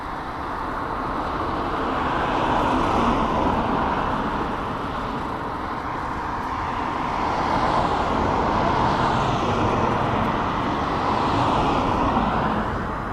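A broad, steady jet roar swells and fades slowly, a Flybe airliner from Belfast approaching East Midlands Airport at a distance, with a low rumbling wash throughout.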